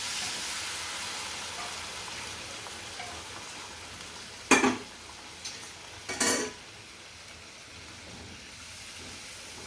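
Gravy in a pan simmers with a soft, steady bubbling, broken by two brief bursts of sizzle and scraping as hot water goes in and is stirred, then settles back to a quiet simmer.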